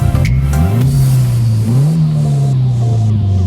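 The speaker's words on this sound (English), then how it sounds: "It just sounds like a normal car with a catback exhaust." A car with a catback exhaust and new motor mounts revs hard, the loud engine note rising, dipping briefly and then holding a steady droning pitch close by.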